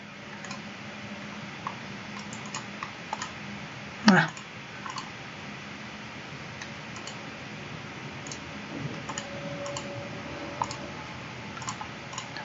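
Sparse on-screen keyboard clicks and ticks from the video game Zero Escape: 999 as letters are typed, soft and intermittent over a steady ambient game background hum, with one sharper click partway through.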